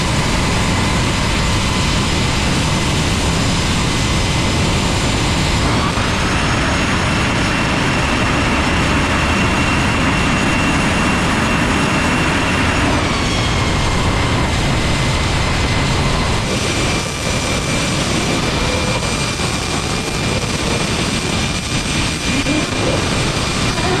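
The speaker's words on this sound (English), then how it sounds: "Good thing we got a jet dryer." Jet dryer running at a drift track on drift night, a loud, steady turbine-like roar with a high whine that shifts pitch a couple of times, continuous throughout and close by.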